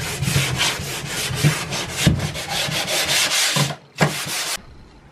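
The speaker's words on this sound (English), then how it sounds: "So Julie is sanding the cabinets" Rhythmic back-and-forth sanding strokes on wooden cabinets inside a truck camper under renovation, close and fairly loud, with a short pause near the end before the rubbing resumes briefly.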